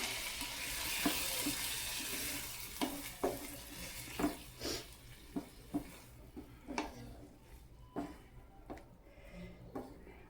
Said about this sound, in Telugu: తగినన్ని నీళ్ళు పోసుకుందాము